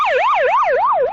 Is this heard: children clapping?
no